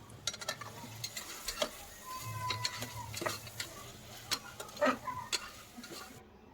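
Pasta with Maggi masala is stirred in a pressure cooker, with faint soft sizzling under a series of quiet scrapes and sharp ticking knocks of the spoon against the metal.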